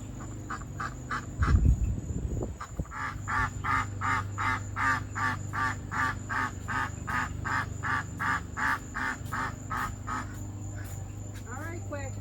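Ducks quacking close by in a garden, a rapid, steady series of about twenty loud nasal quacks after a brief rustle, with a low hum behind.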